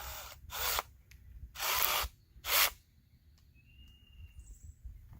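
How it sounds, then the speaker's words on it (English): Three short bursts of spray lubricant hit a step drill bit while fitting bolt-on hooks to a Kubota loader bucket, each hiss loud and close with brief pauses between, followed by a quiet background with faint bird or insect tones. "Give it another shot of oil."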